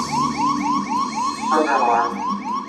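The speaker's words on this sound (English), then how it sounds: "a problem with the onboard computer. 1202 alarm." An Apollo lunar module onboard computer 1202 alarm sounds as a repeating electronic warble, rising chirps pulsing roughly every quarter second, loud and steady over a low rumble.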